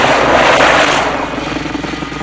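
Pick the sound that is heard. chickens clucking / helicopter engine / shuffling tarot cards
helicopter engine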